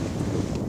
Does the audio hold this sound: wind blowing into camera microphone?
yes